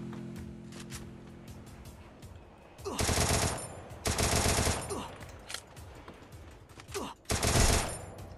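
Free Fire gunfire from an Evo Thompson submachine gun comes as three loud, close bursts of rapid automatic shots, separated by quieter background game sound.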